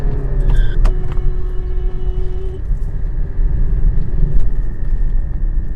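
A Maruti 1.3 DDiS diesel engine idles with a steady low rumble, then is revved past 2000 rpm, the pitch rising briefly before settling back to a continuous close drone, with no talking.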